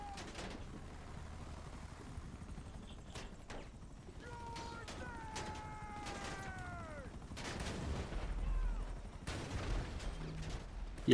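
Gunfire in GTA Online during a Diamond Casino Heist vault explosive setup mission with an APC, sounding as scattered sharp shots over a steady vehicle rumble while a voice talks intermittently.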